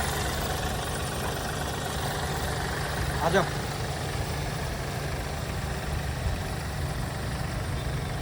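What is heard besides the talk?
diesel car engine idling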